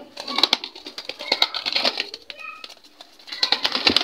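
A nesting pigeon shifting over its eggs, with soft flutters, rustling and brief scraping close by, a few muffled coo-like sounds, and a short quiet gap before the scuffling picks up again.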